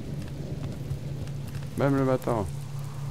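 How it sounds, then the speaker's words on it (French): Steady rain falling outdoors near a beach, a soft continuous hiss throughout, with someone speaking French briefly over it. "Là, on n'a pas de bol, il continue à pleuvoir"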